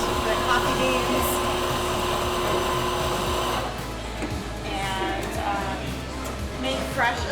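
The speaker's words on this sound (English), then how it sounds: "So we grind the coffee beans" Coffee grinder grinding honeybee espresso beans in a bar: a loud continuous motor whirr that drops slightly in pitch partway through, close by, with a person speaking over it.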